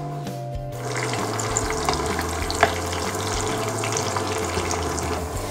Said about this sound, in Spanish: Ponemos los ajos y la ñora.